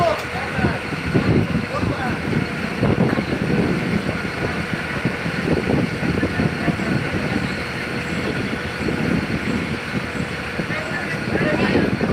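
Derailed locomotive with wheels coming loose on the track, heard as steady rumbling train noise with scraping and clattering under continuous speech throughout.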